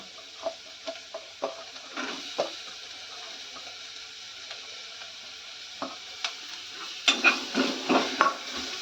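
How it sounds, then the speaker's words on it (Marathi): Onion frying in oil in a pan for banana flower bhaji, a low steady sizzle with a series of spoon taps and scrapes, the stirring busier toward the end. "आता कांदा ह्याच्यामध्ये भाजूया आपण चांगला."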